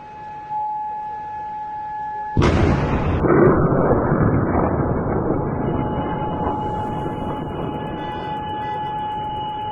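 A sudden loud missile explosion bursts out after a steady tone, followed by a long, rumbling roar that slowly fades while a faint siren-like tone continues.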